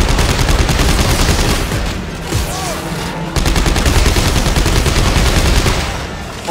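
Dense, continuous gunfire in the video game Dead Space 3's Awakened DLC crackles and booms for several seconds, loud and chaotic like a sustained firefight, with a short dip partway through.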